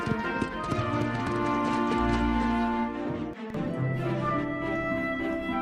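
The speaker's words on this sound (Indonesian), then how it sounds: "Yesus menunggangi keledai itu ke Yerusalem" Donkey hooves clip-clopping in a steady walking rhythm, heard over a bed of sustained music in a retelling of Jesus riding into Jerusalem.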